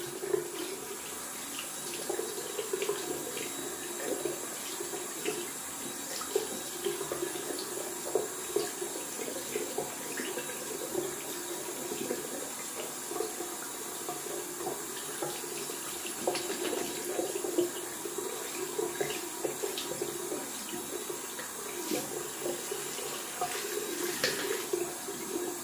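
Tap water runs steadily into a sink while a shaving brush is rinsed out. The rushing stream is constant and close, with small splashes and no talking.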